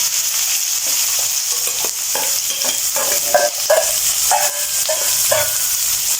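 Chopped small onions hit hot oil with ginger for ullitheeyal, a steady close sizzle broken by repeated scraping stirs of a spoon against the pan.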